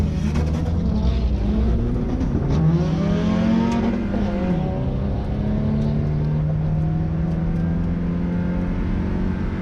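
A drag race car engine roars and climbs in pitch as it launches hard down a drag strip, a sustained loud drone that stays steady after the launch.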